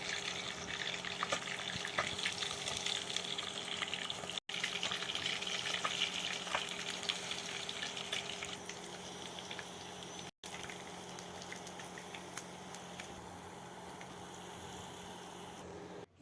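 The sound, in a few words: fish frying in pan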